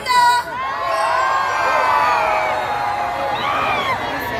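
Children in a large crowd at an outdoor Schlager concert shout and cheer loudly and continuously, a dense mass of high voices that swells and carries on for several seconds.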